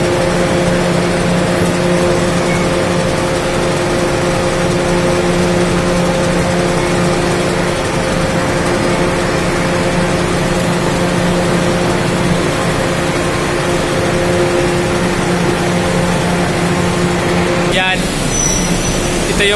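A production machinery motor inside a potato factory runs as a steady, loud droning hum with sustained tones, continuous for the whole stretch, with a brief disturbance near the end.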